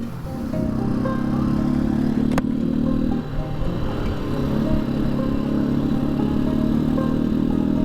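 A Janus Halcyon 250 motorcycle rolling along a gravel road on a sunny day, its mid-pitched engine droning steadily and loudly close by, with crunching tyre clatter and wind rush and no speech.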